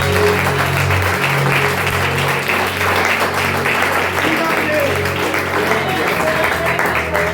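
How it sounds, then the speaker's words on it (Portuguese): A church congregation applauds during an evangelical service in Brazil, a steady wash of clapping held at even strength throughout, with a sustained musical tone and a voice running beneath it. "Você pode aplaudir Jesus nessa noite?"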